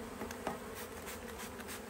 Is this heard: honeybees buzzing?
yes